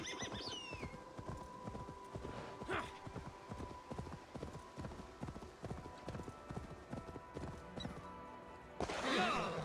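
Horse hooves clip-clop steadily and close in the game Assassin's Creed Valhalla, a rhythmic run of sharp hoof strikes with a brief whinny and some game ambience.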